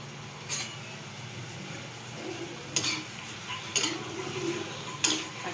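Tomatoes sautéing in hot oil in a pan for egg thokku, with a faint steady sizzle and a few sharp scraping stirs of a spoon against the pan, close by and no talking.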